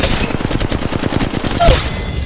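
Rapid automatic fire from a Flatline heavy-ammo rifle in Apex Legends, a steady close burst of about a dozen evenly spaced shots running nearly the whole time, loud and alone.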